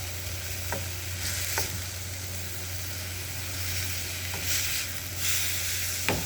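Onions and tomatoes fry in a pan with a steady sizzling hiss, broken by a few sharp knocks of a utensil stirring against the pan.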